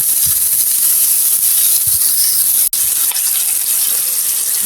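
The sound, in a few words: frying chopped onion and garlic in oil, sizzling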